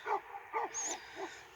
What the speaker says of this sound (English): And now the dog's barking.